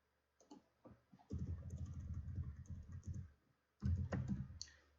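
Computer keyboard typing in a quiet room, a few isolated key clicks followed by a dense run of rapid keystrokes, a brief pause, then another burst, all close and fairly loud with no talking.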